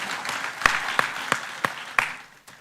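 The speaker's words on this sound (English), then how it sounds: "So a big round of applause for everyone who is in the room and people who are watching this virtually." Sparse clapping from a small audience at a workplace awards event, a handful of distinct, evenly spaced claps over quieter background patter.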